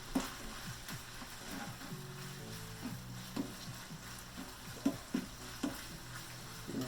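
Maple bacon frying in a pan being stirred, a soft steady sizzle with scattered scraping and clinking of the utensil against the pan, fairly quiet throughout.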